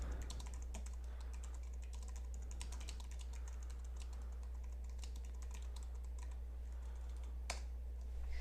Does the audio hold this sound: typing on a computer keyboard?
yes